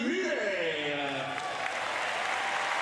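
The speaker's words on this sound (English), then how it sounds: "a wonderful ovation provided by the host nation" Ovation from the host-nation crowd at the Paris 2024 Para Judo preliminary rounds, steady broadband clapping and cheering filling the arena for a French athlete, with a voice heard over the start.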